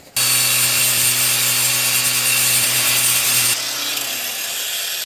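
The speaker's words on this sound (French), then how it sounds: "je vais poncer la fausse pièce, je vais la mettre à fleur" A glued wooden folding-knife handle piece being sanded flush on a power sander, a loud, steady, close abrasive whir with a droning hum that drops slightly in pitch partway through.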